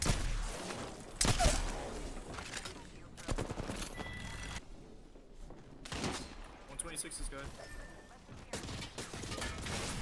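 PK machine gun fire in a video game, with sharp bursts of automatic shots spread unevenly across the clip among other game noises and some background activity.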